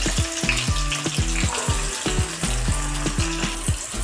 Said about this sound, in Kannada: ಇವಾಗ ಆನಿಯನ್ ಹಾಕಿ ಫ್ರೈ ಮಾಡ್ಕೊಳ್ಬೇಕು.